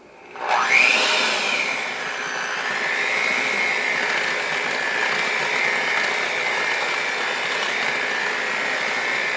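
An electric mixer whirs up and runs steadily through sifted flour and vanilla cake batter, starting with a rising whine and then holding a loud, even motor drone.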